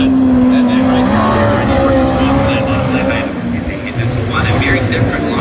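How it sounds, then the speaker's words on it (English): A midget race car engine roars at a speedway, loud and sustained with a high droning pitch that bends and dips as the car throttles through a turn, while a commentator's voice runs over it. "He's going to throw that race car down here"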